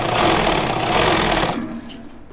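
A sewing machine runs fast and loud at close range while stitching a shirt collar, its rapid needle chatter steady for about a second and a half before slowing and stopping.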